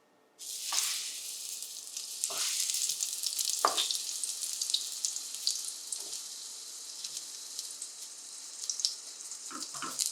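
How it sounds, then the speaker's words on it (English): Eggplant hits hot oil over a medium flame and sets off a sudden bright sizzle that carries on steadily and crackles close by, with a few sharper pops, and no talking. "Here I have it at medium flame and I added some oil. I will start adding the eggplant."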